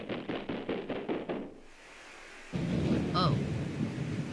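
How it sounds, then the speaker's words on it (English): Rain and thunder in the video game Phoenix Wright: Ace Attorney, a rhythmic pulsing passage giving way to a rumbling wash of rain and a soft thunder roll, fairly faint. "Raining."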